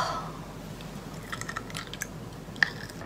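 Spicy squid chewed close to the mouth, with soft wet biting and several crisp crunchy bites, under a faint background murmur.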